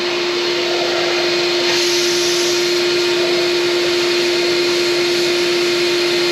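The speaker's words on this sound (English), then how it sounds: "Giving this a quick vacuum." A vacuum cleaner runs loud and steady close up while cleaning around the air intake of a 2019 BMW K1600GT motorcycle, a constant whining drone with a brief shift in tone near the start.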